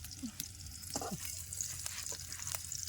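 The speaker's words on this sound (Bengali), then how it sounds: "মাছটা ভাজে তো তেলের মধ্যে দিয়ে দিচ্ছি মনে হচ্ছে সর্ষের তেল" Fish frying in mustard oil, a faint, steady sizzle with small crackles and scattered light clinks throughout.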